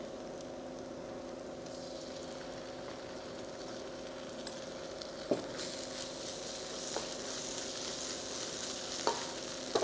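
Onions sautéing with ginger-garlic masala in a pan for a Chettinad cashew chicken, a steady close sizzle with occasional stirring scrapes and clicks, no talk.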